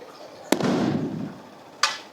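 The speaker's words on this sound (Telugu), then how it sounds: "ఇక్కడ ఏదో బాంబులు వెళ్తున్నారు" Two firecrackers burst in Tanguturu village, a sharp crack followed by a short rumbling tail, then a second crack over a second later, both at moderate distance with no talking.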